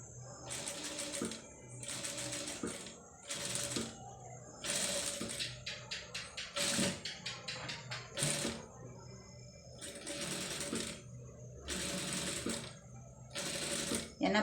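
A sewing machine stitches neck piping on a blouse with invisible thread, running in repeated short bursts separated by pauses, with rapid mechanical ticking between runs and a little quiet talk.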